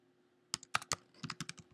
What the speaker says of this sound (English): I will simply begin to type